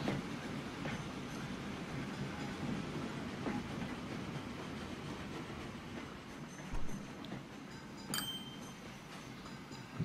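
A train rolls by in the rail-building game Train Fever, a steady low rumble with clicking wheel rhythm and a faint metallic clink, heard alone without talk.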